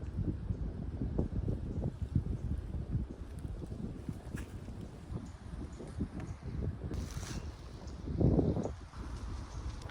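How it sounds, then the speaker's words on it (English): Wind gusting steadily at a campsite for the night, a broad rumbling rush with a stronger gust near the end, no voices. "It's gonna be a windy night."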